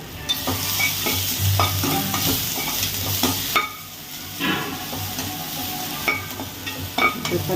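Finely chopped ginger sautéing in a hot pan as beetroot rice is cooked, with steady sizzling and frying hiss broken by repeated scraping stirs of a spatula, close and continuous with no talking.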